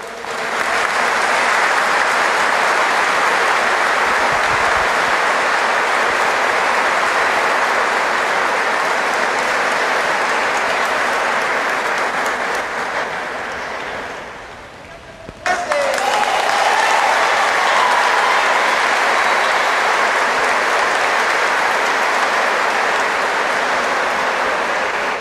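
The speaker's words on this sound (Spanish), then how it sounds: "Así vamos a darle un fuerte aplauso." Congregation applauding at a Mass in the Basilica of Itatí, a loud, sustained wash of clapping that briefly thins midway before swelling back to full strength.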